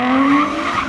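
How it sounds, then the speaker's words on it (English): A sport-model car's exhaust note, loud and close: a steady, droning tone with a sharp, raspy edge held for under a second, with no talk over it. "one of my favorite parts, the exhaust note. This car sounds ridiculous."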